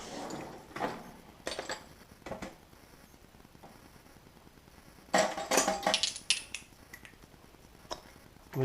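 Metal DeLorean transmission parts, mostly 8mm and 17mm bolts, clink into a magnetic dish during teardown: a few sharp separate clinks, then a quick cluster of several together, then one last faint tap, all close by in a quiet room.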